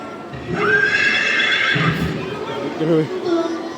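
A horse whinnies loudly and clearly, its neigh rising and holding for over a second, followed by snorting and hoof sounds close by, with a voice briefly audible under it.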